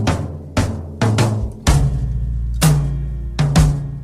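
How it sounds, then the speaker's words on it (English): Dry, close-miked 1970s-style recorded drums play a slow groove alone: separate kick, snare and tom hits with short, deadened decay and no room reverb, each strike distinct and punchy. "In the 1970s, drums on the radio sounded a lot like this."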